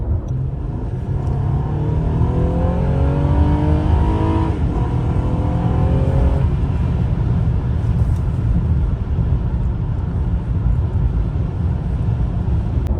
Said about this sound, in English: Let me do another run so you can hear that engine.